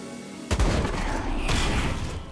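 A broad, booming blast from an exploding enemy in the action game illWill bursts in after a brief quiet, with a second heavy impact following soon after, both loud and close.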